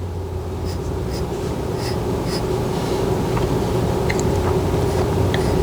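A drawing pencil sketching on paper in a facial study from a reference, soft continuous scratchy strokes with a few light taps, close and fairly quiet against a steady low background hum.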